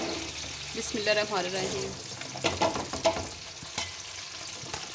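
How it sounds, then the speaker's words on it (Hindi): Onions frying in a quarter kilo of hot ghee for beef yakhni pulao: a steady sizzle with stirring scrapes, while a voice speaks over it for much of the time. "प्याज को हम अच्छी तरह फ्राई करेंगे"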